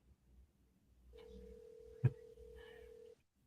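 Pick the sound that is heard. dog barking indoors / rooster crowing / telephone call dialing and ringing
telephone call dialing and ringing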